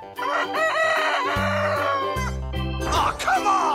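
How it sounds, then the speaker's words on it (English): A rooster crows loudly and close by in one long, wavering cock-a-doodle-doo, followed by a few brief clucking notes. "Chicken."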